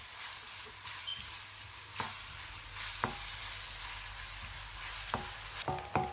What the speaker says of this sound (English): We need to saute this till they are translucent.